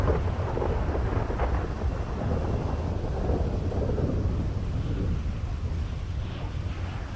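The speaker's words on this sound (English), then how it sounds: "It's raining, dudes." Continuous rain with deep rolling thunder and wind noise on the microphone, a steady loud wash of sound heard from beneath an umbrella, with no talking.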